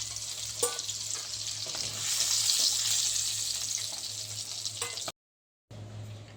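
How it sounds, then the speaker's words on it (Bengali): Eggs fry in hot oil with a loud, continuous close sizzle that swells in the middle, a few sharp clinks of a utensil, then a short silence before the sizzling resumes. "ডিমগুলো আমার ভাজা হয়ে গেছে। এবার এটাকে আমি তুলে নেব তেল থেকে।"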